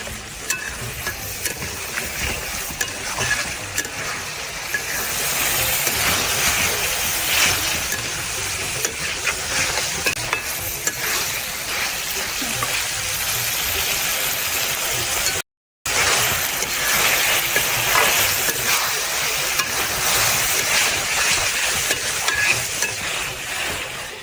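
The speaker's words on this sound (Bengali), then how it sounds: "এবার আমি মাংসটা ভালোভাবে কষিয়ে নিচ্ছি" Meat with liver and skin being stir-fried in spiced masala in a pan, a steady loud sizzle with scraping and stirring clinks throughout, briefly cut off by a short gap.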